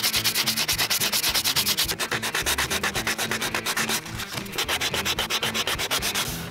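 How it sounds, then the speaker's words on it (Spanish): A damaged car bumper is hand-sanded with 150-grit sandpaper during a hole repair, producing fast, rhythmic back-and-forth scratching strokes, close and continuous with only a brief pause near the middle. "Esta parte de aquí voy a utilizar una lija de 150, que es bastante abrasiva para lijar"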